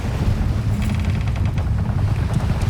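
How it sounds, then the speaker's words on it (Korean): A strong wind gusts at sea in a drama, with a loud, constant buffeting rush and roar of moving air filling the scene without letup. "심상치 않은 바람이 불어오기 시작하는데"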